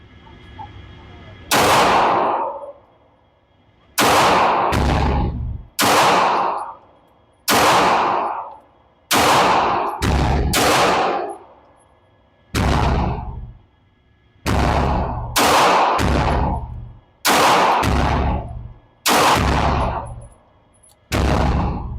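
Nerf blaster shooting foam darts at targets on an outdoor range: about a dozen loud, sharp bursts, each followed by a short whoosh, fired one at a time at uneven intervals with quiet gaps between.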